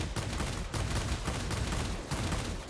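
Twin 30mm cannons on a Bf 109 Z fighter in World of Warplanes fire in a dense, continuous stream of heavy thudding bursts, loud and close throughout with only brief gaps.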